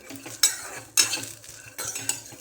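Mixed vegetables for a Bhogi vegetable dish roast in a pan, with three distinct scraping stir strokes over a faint sizzle.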